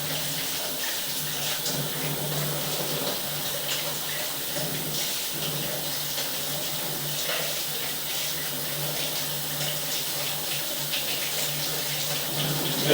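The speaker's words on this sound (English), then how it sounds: "I'm going to run some water here in the stationary tub." Steady broadband rush of tap water pouring into a stationary laundry tub, running continuously and fairly close for the whole stretch with no talking.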